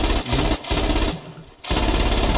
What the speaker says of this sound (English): Hey, stop shooting!